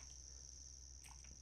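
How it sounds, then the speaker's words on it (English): Insects resembling cicadas buzz in a Sims life-simulation game, a faint, continuous high-pitched drone with a brief chirp layered in near the end. "They definitely sound like cicadas, and they kind of look like them too"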